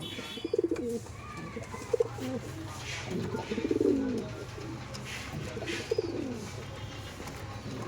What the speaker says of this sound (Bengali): পায়রা দুটো ছেড়ে একটু শখ করাবো